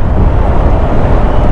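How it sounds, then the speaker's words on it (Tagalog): Loud, steady wind roaring against the microphone while riding a Yamaha NMAX V2 scooter, a dense low rumble with no voices. "Sarap ng hangin talaga rito ah."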